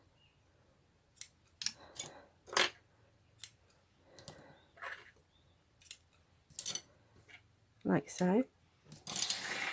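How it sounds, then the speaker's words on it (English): Scissors snipping white threads off wooden weaving sticks in a craft project: a series of sharp, close, separate cuts, with someone speaking briefly between them. "remove the weaving sticks by cutting these white threads up here"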